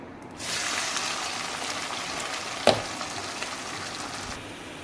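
Finely chopped onions hit hot oil with roasted cumin and asafoetida, a steady bright sizzle that starts abruptly and keeps frying evenly, with one brief clink or stir partway through.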